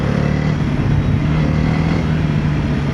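TVS Apache RTX 300 adventure motorcycle engine ridden in rally mode, a steady loud drone with a constant low hum and continuous wind-like rush throughout.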